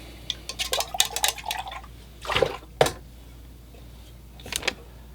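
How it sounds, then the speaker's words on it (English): A painting water bucket is emptied and refilled with fresh, clean water. Scattered splashes and clatter come first, then two louder pouring gushes and a final brief splash, close by with no talk. "So I just changed out the water in my water bucket, put in some fresh, clean water."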